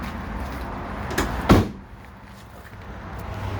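Sliding side door of a 2020 Ram City ProMaster van shutting, one close, solid thud with a short rattle, then quiet interior hum.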